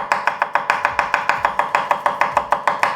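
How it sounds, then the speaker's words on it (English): A knife slicing garlic thinly on a cutting board, a quick, even run of about fifteen crisp taps close up, each cut sharp and regular with no voices. "And we slice some garlic."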